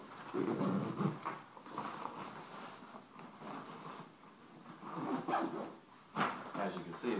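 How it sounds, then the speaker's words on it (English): Zipper run around a 5.11 Tactical Rush 72 backpack being closed, a series of rasping pulls of moderate loudness continuing for several seconds, with rustling fabric and handling noise between strokes. "I'm going to zip it up."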